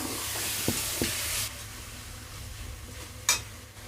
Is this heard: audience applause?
no